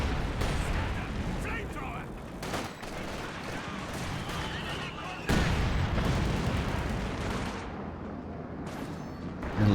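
Dense artillery counter barrage in a strategy war video game, continuous rumbling booms and overlapping explosions with a sharp blast midway, while a commentator talks over it.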